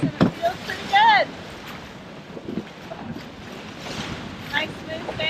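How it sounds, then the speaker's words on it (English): A sailboat beats upwind with the wind on the starboard side along the Eleuthera coast. Steady wind buffets the microphone over rushing water and hull noise, with brief high chirps and faint voices. "We're sailing somewhat upwind, 60 degrees with the wind on our starboard."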